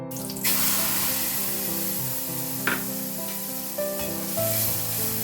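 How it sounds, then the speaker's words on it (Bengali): Spice paste loosened with water poured into hot oil tempered with nigella seeds, bursting into a loud, close sizzle that settles into a steady crackling fry, with light stirring and utensil clinks. "এবার দিয়ে দেবো এই মশলাটা, জল দিয়ে যেটা গুলে রেখেছিলাম।"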